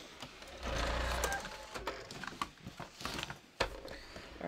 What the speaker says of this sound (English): I'm gonna grab my sewing machine back.